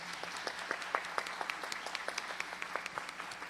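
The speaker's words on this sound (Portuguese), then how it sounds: "Uma salva de palmas, nossas crianças." Applause for children in a church congregation, a steady patter of many hands clapping at moderate distance with no voices over it.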